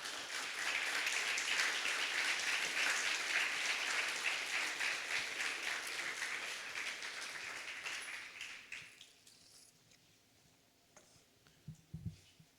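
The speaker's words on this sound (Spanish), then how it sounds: "¿Le das un fuerte aplauso al Señor?" A church congregation applauds the Lord with sustained, dense clapping that slowly thins out and fades, ending in a few scattered claps and faint low thumps.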